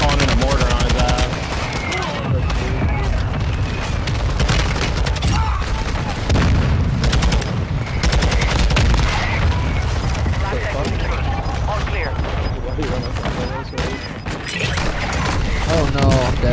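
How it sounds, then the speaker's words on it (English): Mortar strike explosions in a first-person shooter video game, a dense barrage of loud booms and gunfire running continuously, with a player talking over the blasts. "I'm calling in a mortar on his ass."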